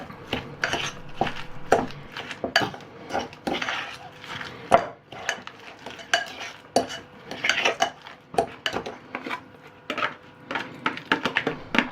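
Utensil scraping and clinking against a bowl as cheese is mixed in, a busy run of close clatter and stirring taps with no talk.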